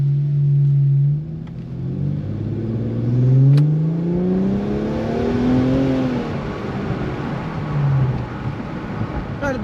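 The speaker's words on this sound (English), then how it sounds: "As you hear, when you get in that higher RPM range, you get more of that turbo kicking in." A turbocharged 1.5 car accelerates with the windows down, the engine rising steadily in pitch through the gears with a shift around the middle, loud and close from inside the cabin.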